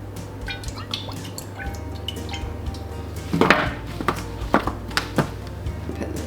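A kitchen knife chops the tops and bottoms off carrots on a board, a few sharp taps and thunks rising over a steady low hum, close by and moderately loud.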